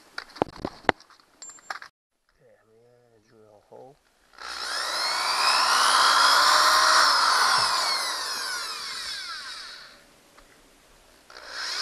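Power drill boring a hole during a DIY smoke test for an EVAP leak on a Nissan Pathfinder, preceded by clicks and brief tool handling, then a sustained high whine for about six seconds before stopping, close and loud.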